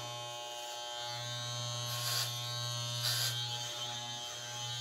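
Electric hair clippers trimming a man's hair from the bottom up, a steady close buzz with brief rasping swells as the blades pass through hair.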